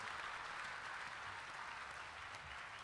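Crowd applause at a dayro folk-music gathering in Surat: steady, dense clapping that continues unbroken for the whole stretch at a moderate, slightly distant level.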